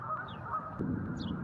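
Goslings and adult geese give a few short, faint honks outdoors, one near the start and one near the end, over steady low background noise with no talking.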